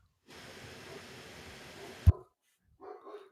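Dogs in a home barking briefly at a distance, a rough burst of noise with one sharp thump, followed by a short faint yip after a pause.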